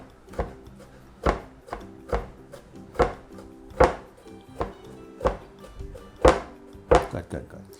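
A knife rocks through an onion on a wooden chopping board, giving a steady run of about fourteen close, crisp thunks at a brisk, slightly uneven pace.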